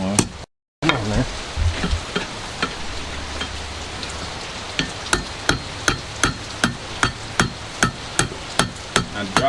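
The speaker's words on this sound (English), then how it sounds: "hammer this way to close the scroll up some" Blacksmith hammering a metal scroll on an anvil, a regular series of sharp ringing blows, about a dozen in quick succession, loud and close over a crackling background.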